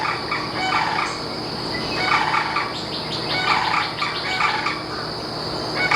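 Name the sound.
loud birds outdoors in Central Florida villages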